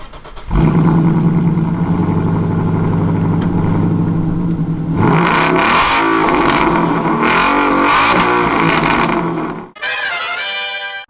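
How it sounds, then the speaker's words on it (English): A Ford Mustang V8 engine idles with a deep rumble, then revs up loudly and close by in several rising bursts before cutting off. A brief tonal sound follows at the end. "is nothing in the world like the sound of a Mustang V8 ripping down the road"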